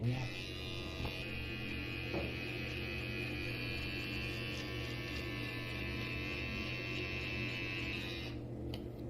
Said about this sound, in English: I'm going to start shaving.